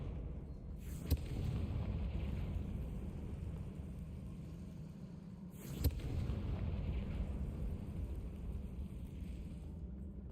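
Two sharp blasts from the Confringo explosive spell in Hogwarts Legacy, spaced a few seconds apart, each cutting through a steady low rumble of game ambience.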